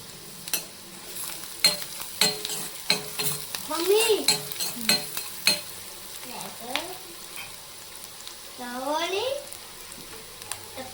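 Onions frying lightly in a pan for ghee carrot rice, a soft sizzle punctuated by repeated sharp clinks and scrapes of a spoon stirring, with someone talking over it at moments.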